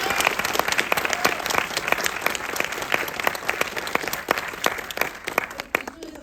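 Theater audience at a film Q&A bursts into sustained loud applause, dense clapping from a full house that rolls on steadily and thins out only at the very end.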